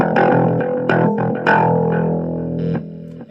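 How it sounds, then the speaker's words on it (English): A bass guitar played through a Nux portable multifunction amplifier with overdrive, close and loud, with plucked notes ringing with a gritty buzzing edge, several attacks followed by a sustained fading note. "Let's add a bit of an overdrive."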